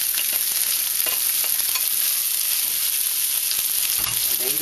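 Rice fries in grapeseed oil in a hot wok, a steady loud sizzle with scraping and stirring clatter throughout, close and continuous.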